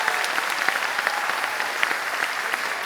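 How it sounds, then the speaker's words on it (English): An audience at a high school concert claps steadily and evenly for the middle and high school choirs, a dense wash of hand claps with no voices on top. "So one more round of applause for the amazing middle school and high school"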